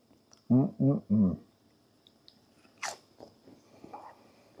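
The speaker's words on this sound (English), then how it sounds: "That one's a little too crispy, but they still taste good." Crispy cooked zucchini being bitten and crunched, three loud close crunches in quick succession followed by quieter chewing and a faint click, heard during driveway car camping.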